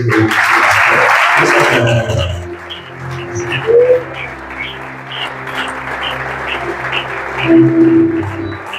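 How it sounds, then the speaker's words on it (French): A church congregation bursts into loud applause to acclaim God, dense clapping up front that thins into scattered claps and murmurs with faint music, with no clear speech. "Et on va acclamer Dieu, on va célébrer Dieu"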